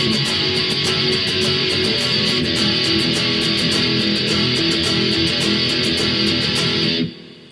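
Guitar power chords ring out in a steady, driving strumming pattern, playing the chorus of Blink-182's "Pathetic" from Dude Ranch. The rhythmic strums continue at even volume for about seven seconds before cutting off abruptly.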